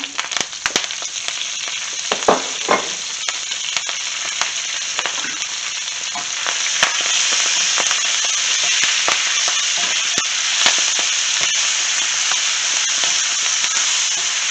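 Keto breakfast roll-ups sizzle loudly in a hot pan still coated in bacon grease, a dense continuous frying hiss with crackles and sharp pops throughout, swelling slightly partway through, with no talking.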